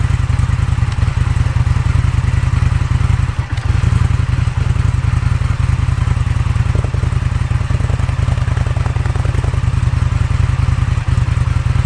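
An Indian FTR 1200 motorcycle with an aftermarket Akrapovic exhaust idles loudly and steadily nearby, a deep, rapid, even thrumming pulse that continues without a break.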